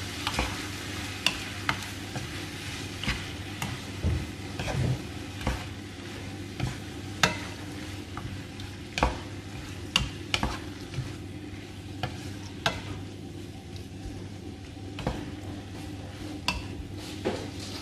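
Squid seasoned with black pepper and Italian herbs fries in a pan under a low, constant sizzle, while a utensil stirs and taps against the pan in repeated clicks and scrapes.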